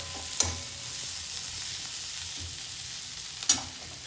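Pulao with turmeric stirred in a frying pan gives off a steady frying sizzle, broken by two sharp utensil scrapes near the start and end.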